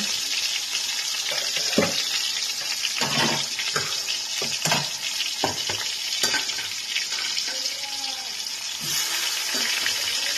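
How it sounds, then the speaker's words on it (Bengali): Potatoes coated in salt and turmeric fry in oil for a hilsa curry with brinjal. A continuous bubbling sizzle runs throughout, with repeated clattering stirs close by. "আলুগুলোকে একটু আমি ভেজে নিচ্ছি।"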